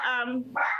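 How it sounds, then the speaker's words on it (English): Dogs barking during a live broadcast, with two close, loud, harmonic barks in quick succession that come through alone and clearly. "I'm sorry about the dogs, guys."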